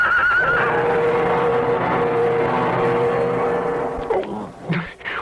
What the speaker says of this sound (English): With a slithering crash, horse and rider went down.